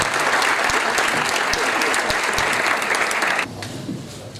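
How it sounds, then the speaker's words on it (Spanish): Audience applause at a book presentation held by a provincial council in Almería, a dense, steady wash of clapping from a large crowd that drops suddenly to a softer patter near the end. "con un fuerte y merecido aplauso"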